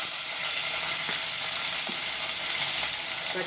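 Sliced onions dropped into hot oil already holding cinnamon, cardamom and clove, giving a loud, dense, continuous sizzle close by, with light stirring clicks and no voices.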